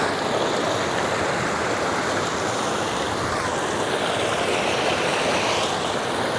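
A shallow, gentle river runs over rocks at a campsite, a steady, loud rushing wash of water close by that never lets up.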